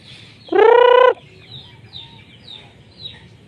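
At chicken feeding time, a hen gives one loud, drawn-out call, followed by a series of faint, high peeping chirps from chicks nearby.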